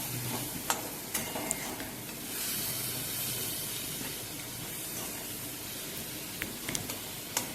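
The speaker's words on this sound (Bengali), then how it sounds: "এই তেলেই কিন্তু সবজিগুলো খুব সুন্দরভাবে ফ্রাই হয়ে যাবে।" Vegetables frying in hot mustard oil with turmeric for a fish tel chorchori give a steady, close sizzle and hiss throughout, with a few sharp stirring clinks and no talking.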